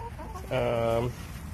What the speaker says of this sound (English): Well, chickens want to say hey.